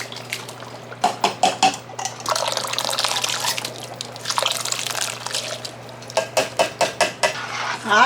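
A spoon stirs whole corn kernels and liquid in a pot of sweet corn pudding, with repeated close clinks and scrapes against the metal, alternating with bursts of wet sloshing.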